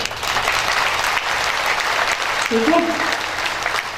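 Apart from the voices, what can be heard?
audience clapping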